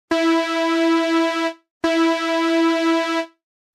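A saw wave resynthesized in SpectMorph, slightly noisy and breathy. Two identical buzzy sustained notes sound one after the other, each lasting about a second and a half with a short gap between, with no voices.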